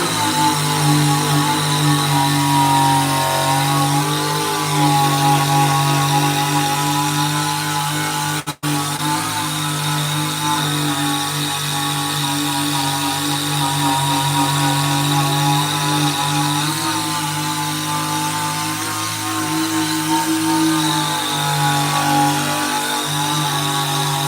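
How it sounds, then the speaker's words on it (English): An eraser wheel on a power tool strips the GTO stripes from a 1971 Pontiac station wagon, giving a loud, continuous whine that holds steady with slight wavering and one brief cut partway through. "It's an eraser wheel. That is an eraser wheel."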